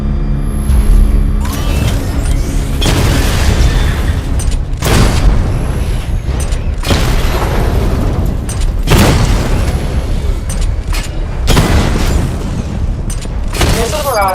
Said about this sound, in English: Destroy targets to charge up weapon energy and activate missile barrage.